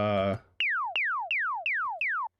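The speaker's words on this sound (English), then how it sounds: "little beep sound that plays throughout the second drop, and this is just a sine wave with a LFO on the pitch" A brief voice, then five evenly spaced synth beeps, each a pure sine tone sweeping quickly downward in pitch from an LFO, loud and clean.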